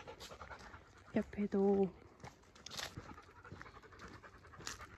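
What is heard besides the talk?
dog panting after a walk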